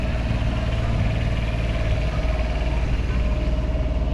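A steady, low engine idle rumbles continuously at close range, with an even mechanical throb and no voices.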